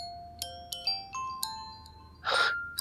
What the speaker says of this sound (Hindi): अरे ये तो निम्रा का फोन बज रहा है